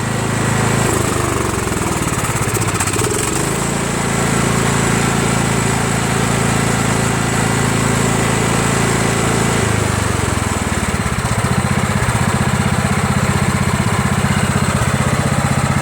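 A Craftsman push lawn mower's small petrol engine runs loud and close at full throttle, a steady buzzing drone with a brief dip in pitch and then a return to an even, sustained roar.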